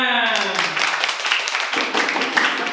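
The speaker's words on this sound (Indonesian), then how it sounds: "Tepuk tangan." An audience at a cyber awareness event claps hands, a busy, fairly close round of applause that follows a brief spoken voice.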